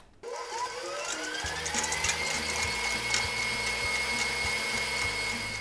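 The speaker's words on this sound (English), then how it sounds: "Now that my butter is completely softened and it's creamed in the mixer" Electric stand mixer creaming softened butter, a steady loud motor whine with a low rhythmic thumping that runs the whole way after a brief quiet start.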